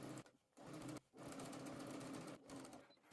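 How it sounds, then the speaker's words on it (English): A sewing machine stitches a seam along a basting line, running in sustained whirring bursts separated by two short stops. "Stitch along the basting stitch and then again a 1/4 inch or 6 millimeters"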